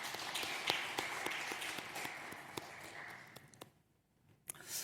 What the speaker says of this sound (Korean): 우리 복음 2구역 식구들과 수요 경배 찬양팀 축복하고 격려하는 박수 하겠습니다